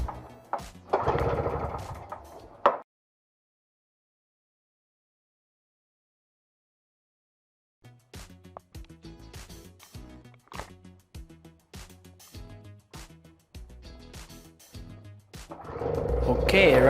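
An MTD snowblower engine starts up and runs with a fast, rough, sputtering pulse after a long silence, its rhythm uneven as if about to die, close and fairly loud.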